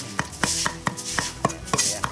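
Knife chopping ingredients on a board while preparing food for grilling, with mắc mật (a fragrant pepper) being minced together with ginger; sharp, evenly spaced chops ring out close and clear, about a dozen strikes, with no talk.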